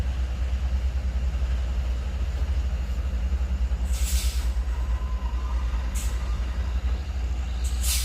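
A truck's diesel engine runs steadily at close range, a deep continuous rumble with brief hissing air-brake bursts cutting through at intervals.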